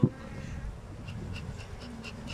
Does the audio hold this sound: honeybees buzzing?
yes